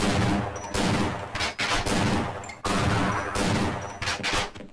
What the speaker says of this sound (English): I might have to shoot these guys down.